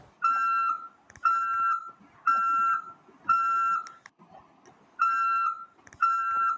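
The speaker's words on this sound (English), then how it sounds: "that sounds exactly like a car reversing. You know, like the beep, beep, beep, beep." A CAT smartphone ringtone sounds in repeated long, evenly spaced electronic beeps like a reversing vehicle alarm, six tones with short gaps, loud and close, with faint clicks between.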